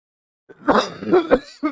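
One close, rough cough that breaks into a few throaty bursts, like someone clearing their throat, then stops.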